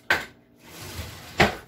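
Metal spoon clinks against dishes while being taken from a kitchen drawer or cupboard in a home kitchen: two sharp, close clatters about a second apart with quiet rustling between.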